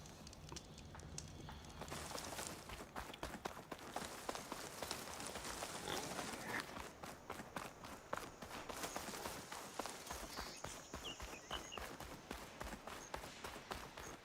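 Mechanical Charger machines in Horizon Forbidden West produce rapid, rhythmic hoofbeats that sound like a herd clip-clopping across the ground. The drumming is continuous and moderately loud, with no voices over it.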